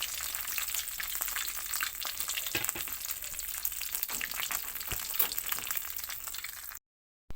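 Fermented fish (pla som) frying in a pan, a steady close crackling sizzle with dense spitting pops that runs continuously, then cuts off abruptly near the end before a brief return.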